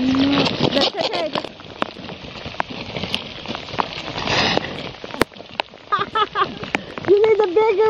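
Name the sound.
freezing rain, ice and water falling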